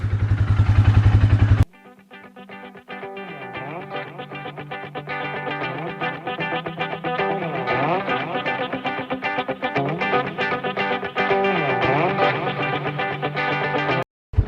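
A motorcycle engine idles steadily after a cold start, warming up with a continuous close rumble and slight wavering in pitch, running alone without talk until it cuts off at the end.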